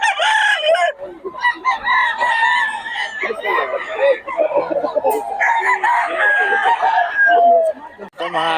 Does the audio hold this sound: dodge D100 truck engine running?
no